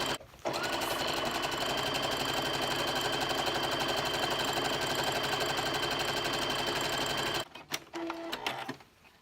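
A sewing machine runs steadily, close and continuous for about seven seconds while stitching a curtain hem, then stops and a few small handling clicks follow.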